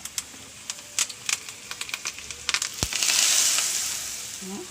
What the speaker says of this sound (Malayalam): ഉള്ളി കാഞ്ഞു, വേപ്പിൻ്റെ ഇല ഇടണം